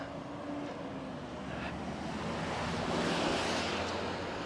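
Steady roar of passing traffic on a busy suburban street in Bedford, Perth, swelling slightly as vehicles go by, with wind buffeting the microphone and no talk.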